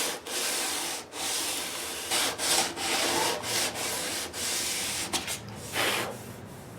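A ten-string classical guitar body being hand-sanded with 400 grit sandpaper, rhythmic rubbing strokes of varying length with short pauses between them, close and clear with no talk.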